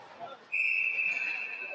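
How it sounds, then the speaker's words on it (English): A referee's whistle sounds at an ice hockey game, one sustained shrill blast held for over a second above the low hum of the rink. "And we have a whistle."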